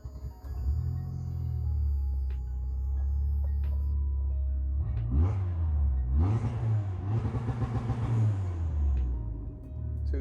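Turbocharged 22RE engine in a Toyota pickup using launch control: a deep steady idle rumble, then rising revs that hold and stutter against the limiter in rapid pulses near the end.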